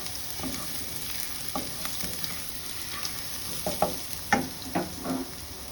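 Garlic sizzles in oil left from frying fish, a steady close hiss broken by several sharp pops and spatters toward the end.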